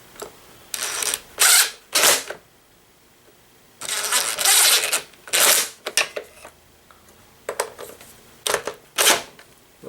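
A power driver with the wrong size bit runs screws into a Ryobi blower housing in repeated short whirring bursts, loud and close, separated by brief pauses.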